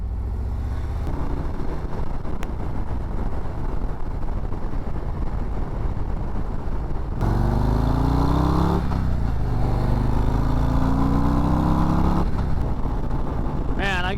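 A 2023 Harley-Davidson Road Glide ST motorcycle rumbles steadily while riding through a U-turn, its engine note rising and shifting partway through, with wind noise over the microphone.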